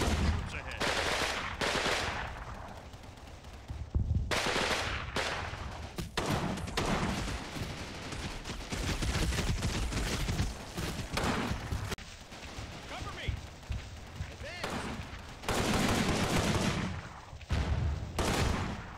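Rapid small-arms and machine-gun fire crackles in repeated bursts throughout a Combat Mission: Battle for Normandy infantry assault, with friendly rounds whizzing overhead, loud and dense with brief lulls between volleys.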